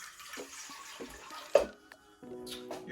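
Warm water poured into a bowl for homemade pizza dough, an uneven splashing trickle with a brief louder gush midway and a steadier run at the end, close and without talk.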